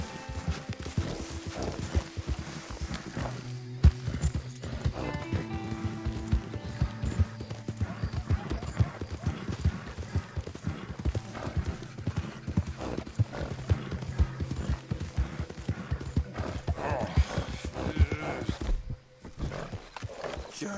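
Hooves clip-clop steadily from a horse in Red Dead Redemption 2, with a whinny breaking through, under game music and ambient sound, while a voice briefly talks to the animal.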